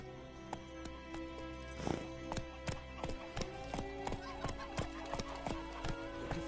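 Geralt's horse Roach moves in The Witcher 3 video game, with rhythmic hoofbeats pounding at a steady pace and a whinny, set over a constant background game hum.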